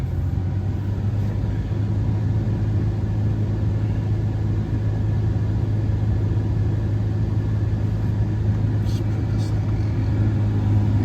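Engine of a 2014 Nissan Titan running steadily, with the air conditioning on full blast. It is a constant, close, low rumbling hum that holds evenly throughout, with no talking.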